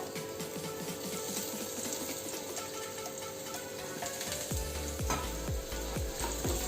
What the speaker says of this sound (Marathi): आता कांदा भाजून घेऊया आपण जरा तेल टाकते कांदा भाजायला